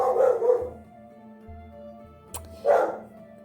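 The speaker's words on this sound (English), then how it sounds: "ambient doggy barking." A dog barks a few times in the background of a sewing room, with two soft clusters of barks at the start and a single bark near the end, faint and somewhat distant.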